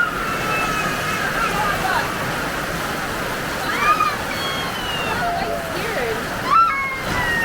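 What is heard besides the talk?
rain and water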